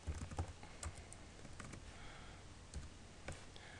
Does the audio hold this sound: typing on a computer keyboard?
yes